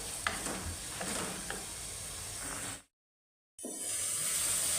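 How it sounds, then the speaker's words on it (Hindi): Tomato masala fries in a pan for an aloo baingan curry, a steady close sizzle with scraping stirs. A brief gap of silence falls midway, and then the frying resumes at the same level. "अब इस मसाले को अब हम अच्छे से भूनेंगे।"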